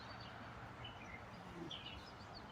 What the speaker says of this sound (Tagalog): yung mga huni ng mga ibon